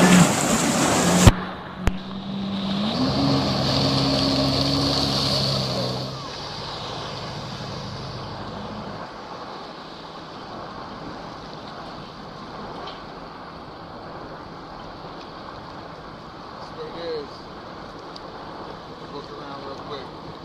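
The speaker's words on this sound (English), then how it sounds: "So, put the wave runner in the water." A wave runner on Lake George, New York, revs and pulls away from near the microphone, its engine whine droning for several seconds before fading into wind and water noise as it rides off across the lake.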